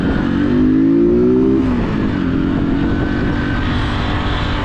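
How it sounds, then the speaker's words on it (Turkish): A passing road vehicle rumbles loud and close with a steady engine drone, its pitch rising and then dropping as it goes by, and continuous road noise fills the rest. "Otobüs."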